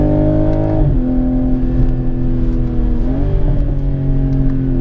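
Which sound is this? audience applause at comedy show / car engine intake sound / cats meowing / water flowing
car engine intake sound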